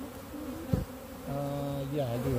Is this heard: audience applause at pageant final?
no